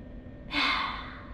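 A single deep inhalation drawn in during a breathing exercise, a close, breathy rush of air lasting under a second and taken alone with no talking.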